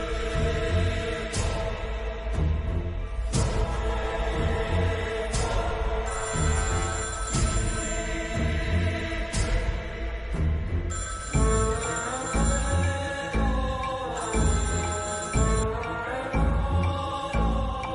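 A telephone rings repeatedly in regular bursts, set against a continuous musical background.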